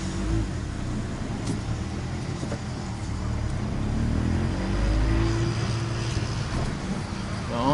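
A Ford EcoSport's engine hums steadily and swells as the vehicle pulls away, with a low rumble of road noise throughout.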